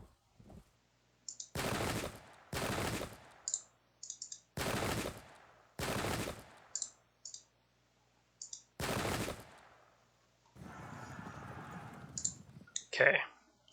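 Musket volleys ring out in the Pike and Shot battle game, set at Ramillies 1706: five or six loud, sharp gunfire bursts spaced a second or two apart, with faint interface clicks between and a rougher rumble near the end.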